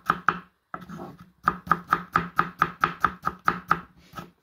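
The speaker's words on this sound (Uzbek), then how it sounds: "Kartoshkamizni ham xuddi shu tarzda to'g'rab olamiz. Somoncha tarzda." A knife chops potatoes into thin straw-like strips on a board, about fourteen crisp, evenly spaced strokes in a steady rhythm, close and clear with no talking.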